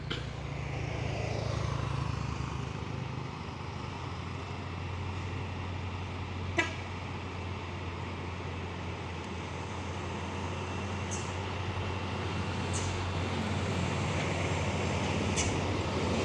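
Traffic noise from a trailer truck rolling along the road, with a single sharp horn toot near the middle and a few fainter distant honks later, set against a steady low rumble.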